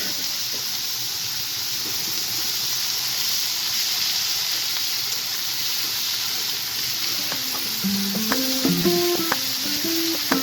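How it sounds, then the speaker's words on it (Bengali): Eggplant frying in oil that was used for pointed gourd, a steady soft hiss and sizzle filling the frying, with faint tonal sounds rising toward the end. "পটল ভাজা তেলে এবার বেগুন ভেজে নিব।"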